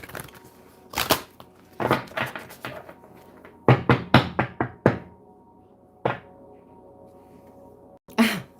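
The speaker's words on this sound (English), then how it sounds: "One more shuffle." Tarot cards being shuffled by hand, a run of sharp riffling bursts and snaps in quick clusters, several in a row, then a pause, one more burst and a final snap, close and fairly loud with no talking.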